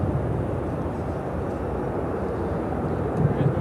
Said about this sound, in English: We are getting the Austrian Plain Jane Dreamliner again.